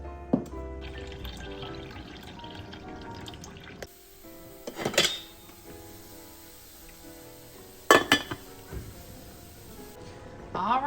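Water runs from a tap into a pot of cubed potatoes in a home kitchen, with a few splashy pours and drips separated by quieter stretches and some background clatter.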